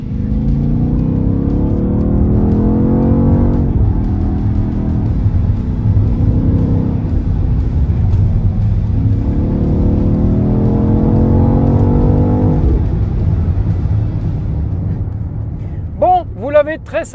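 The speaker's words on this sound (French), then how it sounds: "Nous ne sommes pas à bord d'une voiture électrique, mais plutôt d'une plug-in hybride, qui est équipée d'un V8 biturbo." BMW XM plug-in hybrid with a twin-turbo V8 running from inside the cabin, a deep steady engine drone that rises and falls in pitch through the clip, with a short burst of other sound near the end.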